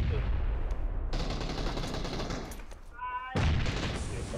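Sustained automatic gunfire in a shooting video game, dense and loud almost throughout, with a brief lull before another heavy burst and voices talking underneath.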